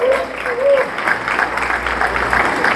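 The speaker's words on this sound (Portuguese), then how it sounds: "Pode aplaudir o Senhor." A church congregation applauds during a sermon, steady dense clapping filling the space, with a faint sustained tone and a brief voice early on.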